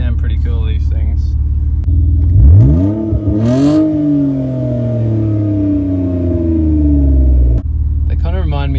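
A BMW 323i drift car's engine revs hard and climbs into a long, raspy, sustained howl close by, bracketed by brief idling, with a voice talking before and after.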